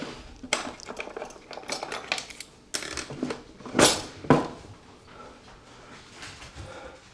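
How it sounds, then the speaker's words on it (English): Sharp, scattered clicks and light clatter of dogs' claws on a hard kitchen floor, with a couple of louder knocks in the middle, fairly close. "You can hear those claws clicking on the floor."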